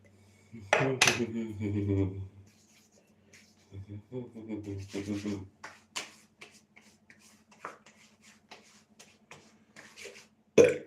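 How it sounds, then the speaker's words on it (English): A short, low burp sounds near the start, close to the mic, followed by scattered light clicks and shaving rustles at a live at-home shave. "I pressed on my Adam's apple, and for some reason I just made me burp"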